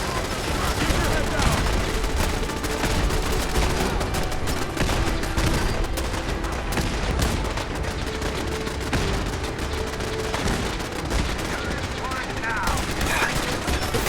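Rapid automatic turret fire in the video game Fallout 4 crackles in dense, continuous bursts, loud and close, with game noise layered throughout and a voice faintly mixed in.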